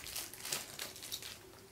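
A small plastic packet from a surprise egg crinkles in short, soft bursts as it is handled close by.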